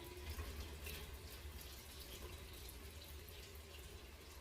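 Cold tap water runs steadily into a sink during face rinsing, a soft continuous splashing hiss, faint and close, with no voices.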